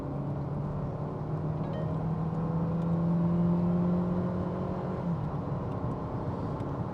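A KGM Korando 1.5 with 163 horsepower and a six-speed automatic accelerates at full throttle from 60 to 120 km/h, giving a steady, droning engine note from inside the cabin that swells and then eases slightly, with no talking.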